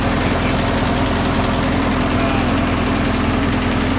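A Ford 8N tractor engine runs steadily at idle, a continuous low, even rumble with a throbbing pulse, close and loud throughout with no talking.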